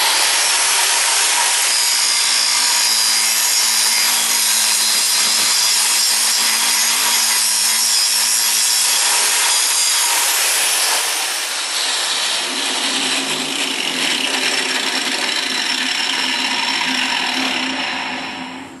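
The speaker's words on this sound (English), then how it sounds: "Got my big angle grinder." A big angle grinder grinds down a weld on a mobile leg vice kit with a loud, continuous, harsh metallic whine and hiss that holds steady for nearly twenty seconds before trailing off.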